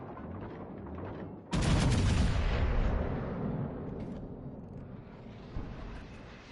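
A battleship's secondary guns fire in World of Warships Legends: one sudden heavy blast is followed by a long rolling boom that fades slowly, with faint further rumbles after it.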